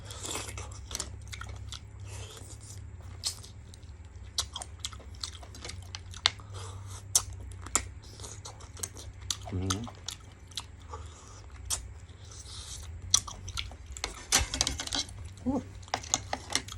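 Someone chews stir-fried shellfish with roasted chili paste, making close, wet crunching and biting sounds in an irregular rhythm. Occasional clinks of shells or utensils are heard over a low background hum.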